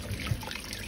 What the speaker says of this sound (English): Add some potatoes that I wanted to put in the oven too, so I washed them off thoroughly